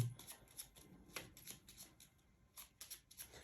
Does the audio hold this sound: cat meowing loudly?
no